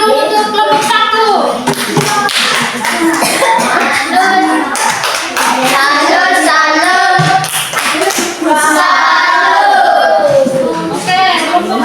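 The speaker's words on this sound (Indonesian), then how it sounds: "tepuk salam dulu untuk kelompok 1" A classroom group performs a rhythmic greeting clap, with bursts of hand claps and taps mixed with children's chanting voices and chatter, close and lively.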